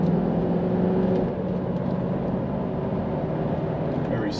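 A 1987 Mercedes-Benz 560SEL sits at idle, its engine giving a smooth, steady low hum without shake or surge, heard from inside the car across the whole stretch.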